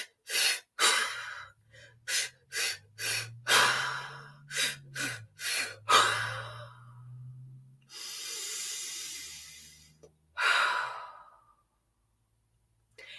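Belly breathing exercise in a 5-3-3 pattern: a run of about eight short sharp inhalations, then a long steady hissing exhale, a pause, and a final quick breath, close and clear with no talking.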